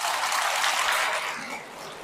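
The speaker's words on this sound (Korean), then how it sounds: "박수 한번 쳐주세요" A church congregation at a Catholic spirit seminar bursts into steady clapping, dense and even, easing slightly toward the end.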